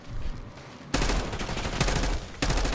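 Rapid bursts of automatic gunfire from a Call of Duty Black Ops 6 match, loud dense volleys starting after a moment of quieter game ambience, with a short break before another burst at the end.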